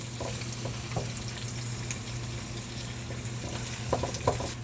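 Onions sautéing in a pan while they cook down to translucent, for chicken liver and tofu in oyster sauce. A continuous close sizzle runs throughout, with light scraping and stirring knocks and no talking.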